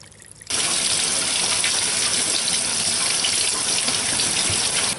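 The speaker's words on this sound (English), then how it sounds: "Now I'm just washing the majority of the dirt off of it with the garden hose" Water suddenly starts gushing from a garden hose after a brief quiet moment, then sprays steadily and loudly, splashing continuously over freshly harvested beets as it washes the dirt off, until the end.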